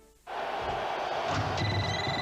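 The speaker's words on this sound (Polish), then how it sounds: "Telefon się urywał" A telephone starts ringing suddenly after a brief quiet start, then rings loud and steady with a bright, sustained bell-like tone to the end.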